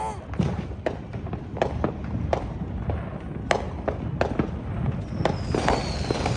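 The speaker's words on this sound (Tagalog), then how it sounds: "Yung 4th of July dito, counter ng parang bagong taon sa Pilipinas" Fourth of July firecrackers and fireworks in the US pop in a scattered series of sharp cracks, some near and some farther off, with a whistling streak near the end and background chatter.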